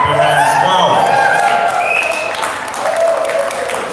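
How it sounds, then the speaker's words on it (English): A standing audience at a Tokyo hackathon pitch event claps hands together, steady crowd clapping mixed with cheering voices and shouts, dipping briefly before picking back up. "Clap your hands."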